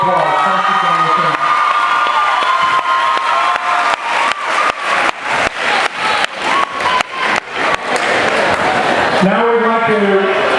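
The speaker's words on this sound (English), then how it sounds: "He really deserves one more big round of applause." Students at a high school anti-bullying assembly clap and cheer loudly, a dense burst of applause with whoops and shouts that swells and then fades as a voice returns.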